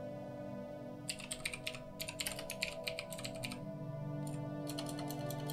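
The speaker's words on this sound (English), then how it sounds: "Oops, not typing properly." Keys clatter in irregular bursts of typing on a computer keyboard during Stellaris gameplay, with short pauses between runs of clicks over a steady background hum.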